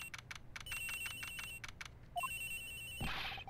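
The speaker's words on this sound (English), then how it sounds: "The ringing's coming from somewhere in here, sir." A cell phone rings inside the Ace Attorney Investigations game: repeated bursts of electronic ringtone, short rhythmic pulses followed by a longer steady tone and a final rising chime, loud and close with no talking.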